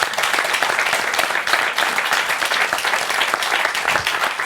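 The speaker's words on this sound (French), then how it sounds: "On peut l'applaudir." A hall audience applauds with dense, continuous clapping that holds steady and loud throughout, with no break in the sound.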